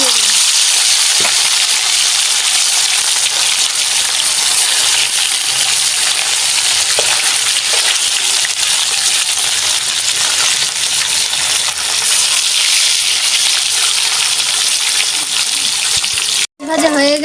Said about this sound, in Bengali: আমি এই তেল দিয়ে দিলাম মাছ ভাজার জন্য